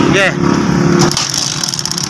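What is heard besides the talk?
Kawasaki CT125 motorcycle engine running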